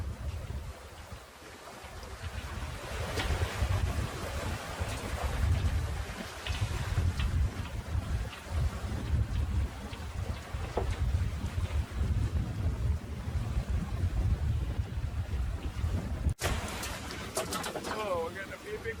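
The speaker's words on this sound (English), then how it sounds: "Oh, we're getting a few big waves." Big waves slapping and washing against a MacGregor 26 sailboat at sea, a continuous heavy rumbling surge with sharper knocks and a sudden thud near the end.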